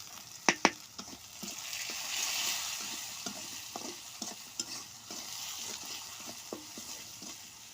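Spices fry in a pan for a pangas fish and ripe tomato curry, a low steady sizzle broken by scattered spoon taps and scraping stirs, with a louder pair of clacks near the start.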